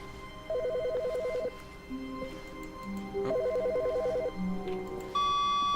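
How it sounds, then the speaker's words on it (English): A telephone in the video game The Stanley Parable rings in repeated short electronic trilling bursts, with quieter game tones and a musical chord between rings, fairly faint and heard without talk. "Oh, it's a phone there."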